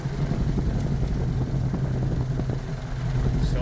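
A light aircraft engine held at steady run-up power during a magneto check, a loud continuous droning rumble with a constant tone throughout and no speech.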